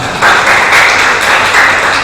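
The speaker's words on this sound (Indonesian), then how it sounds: "Tepuk tangan dulu bagi Yesus Tuhan." A church congregation applauds during a worship service: a steady, dense wash of clapping that swells after a brief quiet start and holds fairly loud to the end, with no speech over it.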